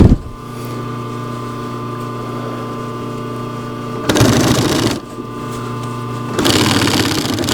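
A sewing machine stitches through layers of a wool blanket shirt with a steady humming motor and rapid needle chatter. Two louder, faster bursts of stitching break up the run, close and alone without talk.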